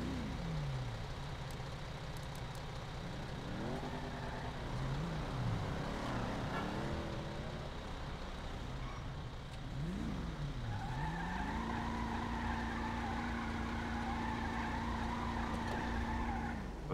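A car in the video game GTA drives with a revving engine and repeated tire skids and squeals, ending in a long steady engine tone, no talking.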